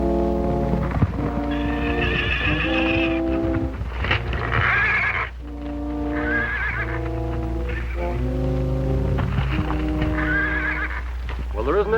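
A horse in a 1937 western film whinnies several times in long, shrill, quavering neighs over a steady low hum, with hoof clip-clops and a voice heard between calls.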